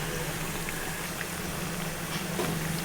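Chicken pakodi fry slowly in hot oil with a faint, steady bubbling sizzle that holds an even level throughout.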